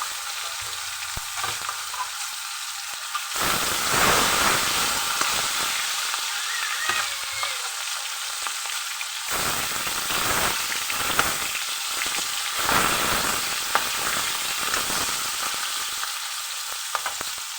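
Fish fries in hot oil seasoned with turmeric, a close, crackling sizzle that flares up in several loud bursts and settles between them, with no talking.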